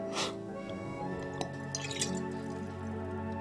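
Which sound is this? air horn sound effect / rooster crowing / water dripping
water dripping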